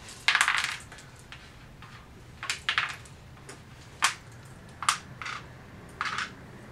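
Board game pieces are lifted off a board and clack together in a handful of sharp, close, scattered clicks and rattles separated by quiet gaps.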